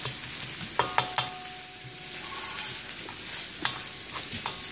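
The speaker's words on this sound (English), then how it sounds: "We want to cook the garlic until it's soft and fragrant, as they would say." Garlic sautés in a pan, giving a soft, steady sizzle with a few sharp clicks and scrapes as it is stirred, heard up close with no talking.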